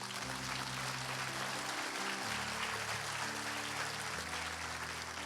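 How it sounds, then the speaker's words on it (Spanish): Applause from a church congregation during a revival-style sermon fills the space with dense, steady clapping, while sustained music tones shift underneath. "Dale un aplauso al Rey."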